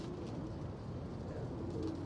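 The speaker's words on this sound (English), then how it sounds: "They're all my pigeons, so I know all of them." Pigeons in new surroundings in Mongolia, soft low cooing heard faintly and close over a quiet background, with no talking.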